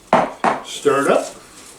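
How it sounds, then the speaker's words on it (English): Coleslaw mix is stirred in a bowl with a utensil, giving a few close, distinct scraping clatters followed by a wetter, rustling swish as the shredded vegetables tumble. "Stir it up."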